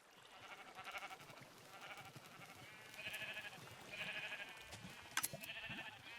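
Sheep in the Minecraft video game bleat repeatedly at a wool farm, a flock of overlapping calls in a steady irregular rhythm, fairly faint, with a sharp click near the end.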